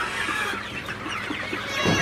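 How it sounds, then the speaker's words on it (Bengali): Sonali super hybrid chickens on a Faridpur farm cluck steadily while pecking at freshly given afternoon feed, a dense close chorus of soft fowl calls that stays at an even level with no talk over it. "আমার সোনালি সুপার হাইব্রিড মুরগিকে খাবার দিয়ে দিলাম। তো আপনারা দেখতে পাচ্ছেন মুরগিগুলা কীভাবে খাইতেছে।"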